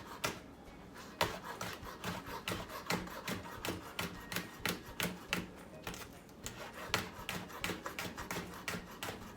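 Rapid, regular knife chops on a cutting board as garlic stems are cut up while cooking Jamaican cow foot, a quiet steady stream of crisp taps with no talk.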